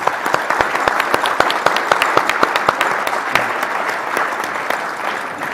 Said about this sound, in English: I'd just like to give Warren and the entire staff a round of applause